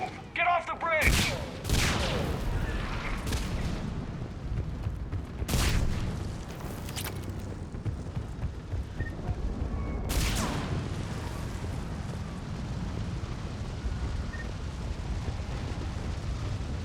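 Gunfire and heavy explosions from a Mass Effect 3 battle on Thessia. Loud blasts strike around the start, middle and later in the clip over a constant roar of rattling fire, with faint voices in the mix.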